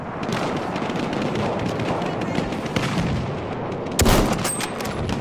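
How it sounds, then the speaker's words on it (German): Battlefield 1 multiplayer gameplay carries rapid, dense gunfire and distant battle booms throughout, ending in a sharp, louder burst that fits a machine gun, with no speech over it. "Da! Ein Maschinengewehr!"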